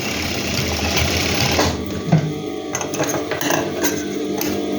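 A sewing machine stitches fabric with a loud, steady rapid whir close by, then shifts into shorter bursts of stitching broken by brief pauses and small clicks, with no talking heard.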